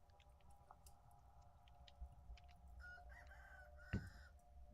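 A chicken in the video game Vintage Story gives faint clucks and a short crow-like call over a low ambient game hum, with a few soft ticks and one brief thump.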